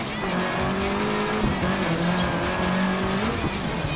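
Citroën C4 rally car in the Sébastien Loeb Rally EVO game on a wet stage in Wales: a steady, loud engine drone with shifting pitch and tyre noise runs throughout, with no talking.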